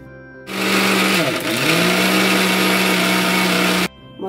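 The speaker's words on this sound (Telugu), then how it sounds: "మిగిలిన బెల్లం కూడా వేసేసుకొని మళ్ళీ మిక్సీ వేసేసుకుందాం." A mixer grinder grinding urad dal with jaggery and cardamom, starting abruptly into a loud steady motor whine that dips briefly as the load shifts, then runs evenly before cutting off sharply near the end.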